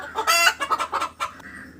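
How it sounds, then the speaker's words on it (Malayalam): A spotted native hen in a coop clucks in a quick series of short, nasal bursts, close and loud, with no talk. "നമ്മുടെ പുള്ളിക്കോഴിനെ വീണ്ടും ഞാൻ ഇതിനകത്തേക്ക് തന്നെ ഇരുത്തിയിട്ടുണ്ട്"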